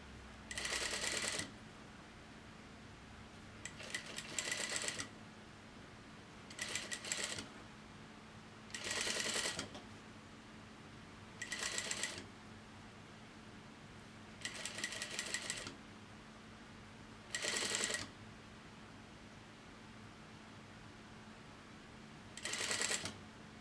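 Sewing machine stitching along a folded fabric edge, running in eight short bursts of rapid whirring a couple of seconds apart, close and clear with quiet pauses between each run.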